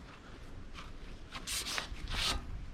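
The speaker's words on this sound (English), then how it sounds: "You just want to scuff it, get it all pretty much sanded." Hand sanding scuffs car body paint before filler primer, a soft raspy rubbing that swells into louder strokes in the second half, close and steady with no talking.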